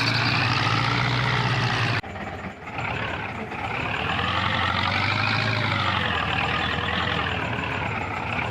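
A tractor in Farming Simulator pulls a trailer in behind stacked bales, its diesel engine droning steadily and close with a brief shift in tone partway through, with no talk over it.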